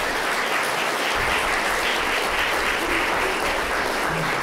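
Steady applause from a seated audience at a museum and humanities panel event, broad continuous clapping filling the room for several seconds with no talking over it.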